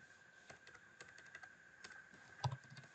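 A command is typed at a computer keyboard: a quiet, close run of irregular key clicks with one firmer keystroke near the end, and no speech.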